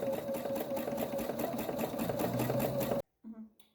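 A sewing machine stitches pajama pants in a steady, fast mechanical whirr for about three seconds, then stops abruptly before a brief voice.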